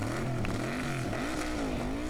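A Formula Offroad buggy's engine runs at a rally in Hella, Iceland, revving and wavering in pitch with a rough, fairly distant tone and no speech.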